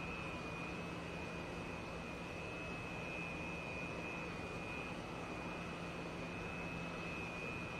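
A Su-27 jet taxiing toward the runway in the DCS flight simulator, heard as a steady, unbroken engine roar with a constant high whine, moderately loud and with no other sounds over it.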